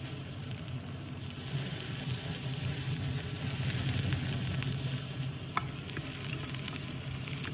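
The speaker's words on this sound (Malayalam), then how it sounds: "അരിഞ്ഞു വെച്ചേക്കുന്ന സവോള ഇതിലേക്ക് ഇടുക" Onions sizzle and crackle steadily in a hot pan, a soft continuous frying hiss with occasional sharper pops, no talking.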